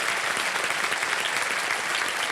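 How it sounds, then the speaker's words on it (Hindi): Studio audience applause on the set of the quiz show Kaun Banega Crorepati, a dense, steady wash of many hands clapping that holds evenly loud throughout with no voices over it. "बिल्कुल सही जवाब दिया, ताली बज जाए इनके लिए।"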